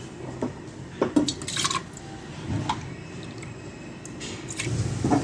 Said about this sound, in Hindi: अपना शरबत हम एक जग में निकाल लेते हैं।